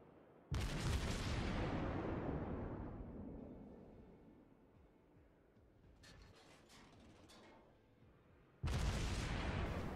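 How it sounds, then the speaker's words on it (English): Naval shell gunfire from a warship in World of Warships: two loud deep salvo booms several seconds apart, the first decaying slowly, with mechanical clanks in between. "Gonna harass that battleship with this couple more AG shells"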